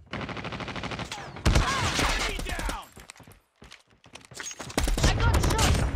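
Automatic gunfire in the mobile shooter Call of Duty Mobile during a clan wars match, loud continuous bursts with a brief lull before shooting resumes.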